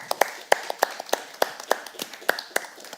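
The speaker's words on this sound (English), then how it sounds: "a big hand of applause." Sparse applause from a small audience at an alumni of the year event, a handful of separate sharp hand claps in an uneven rhythm, fairly faint and not building into full applause.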